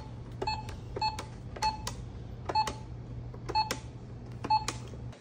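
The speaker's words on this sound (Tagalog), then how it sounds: "Cash register lang pala." A toy cash register beeps in six evenly spaced bursts, each a short electronic tone with a clicky key press, close and clear over a faint steady hum.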